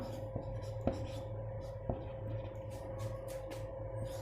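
A pen scratches across paper while a class 9 geometry solution is written out, soft continuous strokes with a few sharper taps, close and quiet under a faint room hum.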